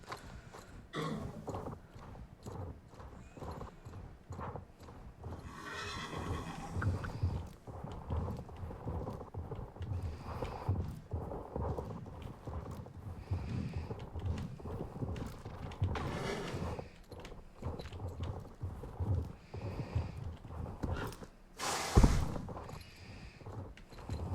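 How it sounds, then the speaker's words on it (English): Horses walk and clip-clop in the online riding game Star Stable Online, a quiet, steady patter of hoofbeats with occasional thuds and rustles, fairly soft throughout. "All I hear is the horses."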